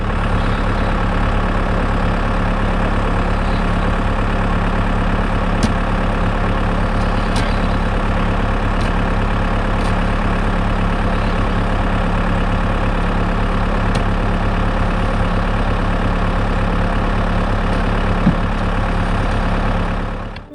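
A tractor engine idles steadily during a rescue of a horse stuck after walking on thin ice, a continuous loud low rumble and drone that holds even for the whole stretch with no talk over it.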